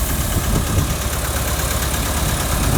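A tractor engine idles nearby, a steady low chugging rumble running unbroken from start to end.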